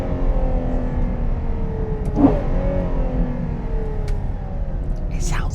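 Car engine blipping during downshifts from fifth to fourth: a steady low drone, one sharp brief rev spike near the middle, then a settled hum under faint background voices.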